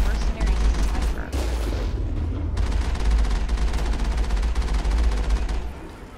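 Sustained gunfire in the Mass Effect video game, rapid overlapping shots and booms over a heavy low rumble, with voices talking through it.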